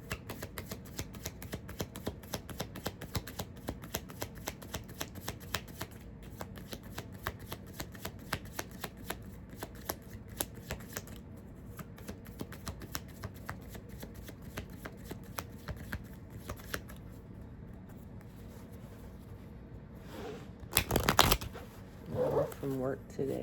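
A deck of affirmation cards shuffled by hand, rapid riffling flicks repeating in a steady rhythm close up, with a louder clatter near the end and faint sounds in the background.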